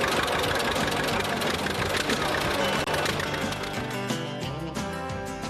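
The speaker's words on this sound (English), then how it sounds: "crank up the engines" Classic tractor engines crank up and run together in a dense, loud, continuous rumble, with a knocking, chugging texture that barely eases toward the end.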